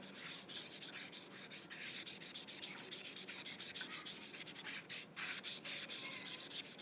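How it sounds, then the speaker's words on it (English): Charcoal smudged across paper in a drawing of birch trees: a steady, close, soft rubbing swish that repeats in quick strokes, with no voices. "And then keep on smudging."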